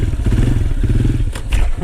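A motorcycle lifts into a wheelie around a large willow bush, its engine droning steadily and close by with a brief rev and some clatter near the end.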